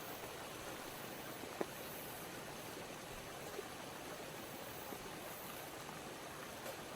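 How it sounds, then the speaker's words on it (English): Water flows steadily in a creek beside a treehouse deck, a constant soft rushing wash heard from a distance, faint and unbroken, with no voices. "looking at the creek, listening to the water flowing"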